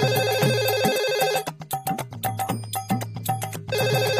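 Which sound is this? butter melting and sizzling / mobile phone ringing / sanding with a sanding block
mobile phone ringing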